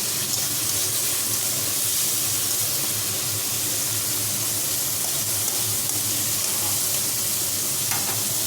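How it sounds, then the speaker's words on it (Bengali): Native river prawns fry lightly in hot oil in a wok, giving a loud, unbroken sizzle up close with faint crackles and a few scraping stirs toward the end. "এই তেলের মধ্যে এবার এই চিংড়ি মাছগুলো দিয়ে দেবো।"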